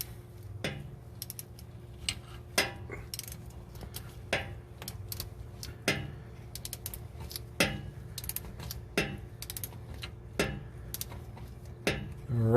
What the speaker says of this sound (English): So now he's going to do it by ratchet.